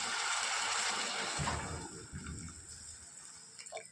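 Water poured into a cooking pot of spicy shev tomato curry, giving a close splashing, hissing pour that fades into soft bubbling.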